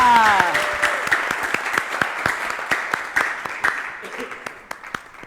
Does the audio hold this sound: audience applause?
yes